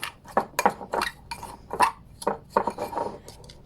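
Half a teaspoon of bicarb being stirred into a drink bomb mixture in a bowl, a run of close, quick scraping and clinking strokes of utensil against dish with short pauses between them.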